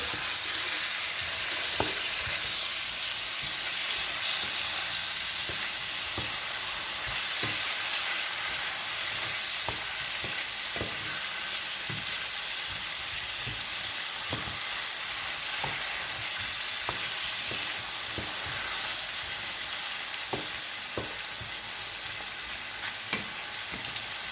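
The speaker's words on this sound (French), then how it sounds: "Maintenant, je vais mettre agneau aussi. Je commence à tourner" Continuous loud sizzling of lamb frying in a pan for paella, with regular scraping knocks of a utensil stirring throughout.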